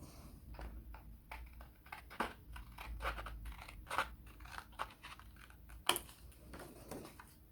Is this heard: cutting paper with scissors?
yes